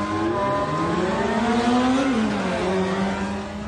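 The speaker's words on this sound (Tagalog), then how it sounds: "Ang maingay na revolusyon ng selinyador ng mga kotse sa 10 oras pa naman ng gabi." Cars in an illegal night-time drag race on Marcos Highway in Pasig rev hard, a loud engine note climbing and then falling in pitch as the cars accelerate, with no voices over it.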